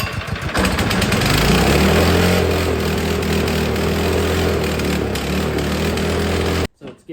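A small gasoline engine, left stored with ethanol fuel, runs loud and steady after its carburetor is primed, with a rough idle-like drone that cuts out abruptly near the end.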